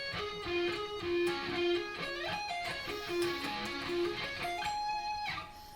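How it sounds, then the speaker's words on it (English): Electric guitar plays string skipping that flows into a sweeping arpeggio from a song's solo, quick bright notes rising and falling with a slightly distorted tone, close and uninterrupted before fading at the end. "So again, we start off with string skipping and then go to a sweeping arpeggio."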